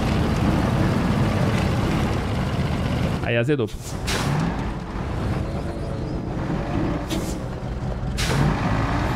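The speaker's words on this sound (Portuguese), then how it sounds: "Olha o meu caminhão subindo" A heavy truck in the MudRunner off-road game groans under load in a continuous low drone, with a brief sharp air-brake-like hiss partway through and someone talking over it.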